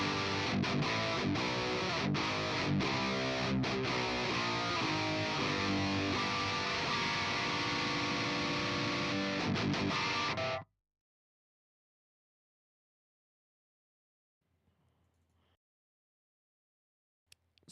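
Electric guitar tone from a music stream, played loud and dense with distortion for about ten seconds before cutting to near silence, with a faint brief noise later.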